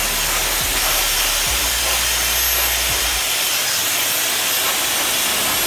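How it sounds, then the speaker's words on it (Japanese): A hair dryer blows hot air steadily onto hair while styling a veil mushroom cut in a salon, a loud continuous broadband rush with a low motor hum underneath that cuts out partway through, leaving a softer airy hiss. "熱と風を頭皮に対して直角に当てるようにして髪をよくゆすりながら乾かしていきます"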